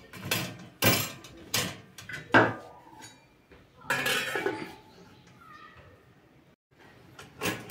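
Pieces of smoked chicken luncheon meat being turned in a pan, with irregular metallic clanks and scrapes of a utensil against the pan and short quiet gaps between them.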